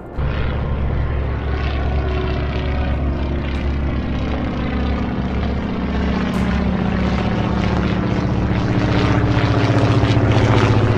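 Bomber aircraft engines in the naval war game Atlantic Fleet, a loud, steady propeller drone that holds throughout with a deep throbbing hum and slowly swells near the end.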